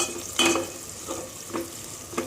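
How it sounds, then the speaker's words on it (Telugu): Onions frying in a pan for mutton korma, a soft steady sizzle with a few faint stirring scrapes against the pan, quiet and close. "అప్పటి వరకు మన ఆనియన్ అయితే ఫ్రై అవుతూ ఉందండి."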